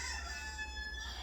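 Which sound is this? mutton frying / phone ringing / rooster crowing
rooster crowing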